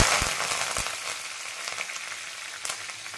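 Cumin, garlic, green chillies and curry leaves hit hot oil for tempering, giving a loud, close sizzle with sharp crackling pops at the start that settles into a steady hiss.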